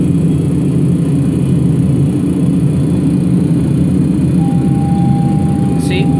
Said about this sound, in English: The engine sounds just amazing.